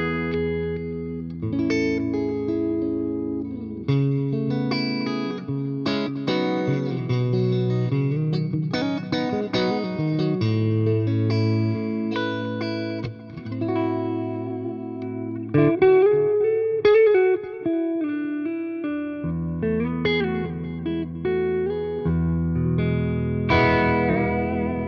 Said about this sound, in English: a bit of delay from the ocean machine there.